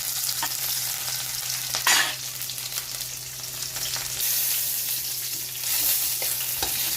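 Shallots and curry leaves fry in coconut oil after mustard seeds have popped, a steady close sizzle with occasional scraping stirs of a spoon in the pan.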